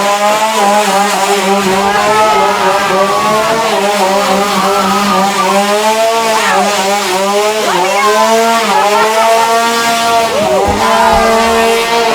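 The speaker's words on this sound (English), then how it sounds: "That was quite an awesome little chainsaw finale there." A chainsaw runs up close with a loud, continuous revving engine whine, pitch rising and falling, steady throughout with no pauses.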